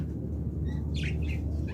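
Pet lovebirds, a breeding pair of silver mutation, give a few brief high chirps in the second half, over a steady low hum of background noise.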